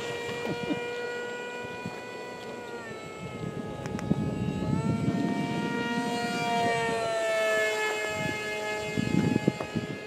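A high, whining turbine tone rises and falls in pitch as a small radio-controlled jet modeled on the T-50 PAK-FA passes overhead, with wind and handling noise close by.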